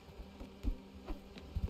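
Bees buzz in the video game Spiritfarer, a faint, steady low hum broken by a few soft thumps and taps from the game, with no voices over it.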